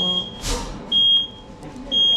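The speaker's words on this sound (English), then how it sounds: "someone set the alarm off" A smoke alarm goes off in a shop while a Deliveroo delivery is picked up in Worcester. It gives loud, piercing high beeps in a steady repeating pattern over a noisy background, with a brief rush of noise early on.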